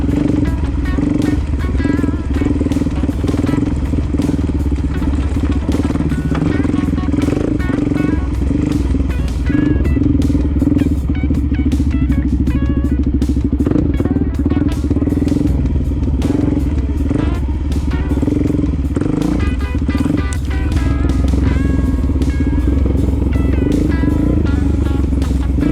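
A 2020 Suzuki DRz400s motorcycle rides a rough road, its engine droning loud and steady throughout, with clattering and rattling bumps layered over the constant motor.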